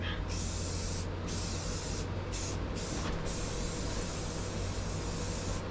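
Spray primer hisses onto a John Deere X350 lawn mower during a refurbish, close and steady, broken by several short pauses between passes.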